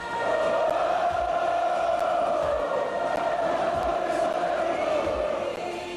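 A dense, continuous roar of a large crowd of Corinthians football fans in a stadium, distant and steady, with chanting voices blending together throughout.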